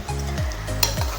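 Vegetables sauté with mint and coriander in a pan for seeraga samba vegetable pulao, a steady close sizzle with two quick scraping stirs.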